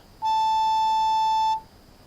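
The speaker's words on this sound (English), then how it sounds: "Please leave a message after the beep." Voicemail beep in the video game Art of Murder: FBI Confidential: a single clean, loud electronic tone lasting just over a second, alone over faint background hiss.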